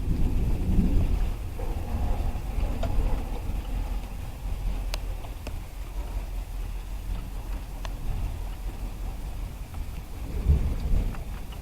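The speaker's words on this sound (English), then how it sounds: "You can hear the thunder in the background and see the first drops of rain beginning to fall." A heavy summer thunderstorm brings low rolling thunder rumbling in the distance over the steady patter of early raindrops, with a few sharp drips close by and no talk.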